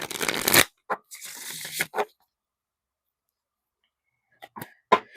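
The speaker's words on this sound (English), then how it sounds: "let's go ahead and get you 3 of these Soul Season Tarot cards" Soul Season Tarot cards are shuffled in a loud rustling burst, followed by a few quick slides and flicks, a long silence, then sharp taps as cards are laid down.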